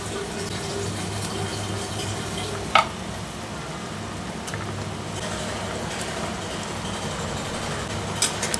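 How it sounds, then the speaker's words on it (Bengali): Fried fish pieces go into a simmering curry in a pan: a constant low bubbling hiss with a steady hum behind it, broken by a couple of brief clinks as pieces are dropped in. "এখন হচ্ছে ভেজে রাখা মাছগুলি আমি এখানে দিয়ে দিচ্ছি"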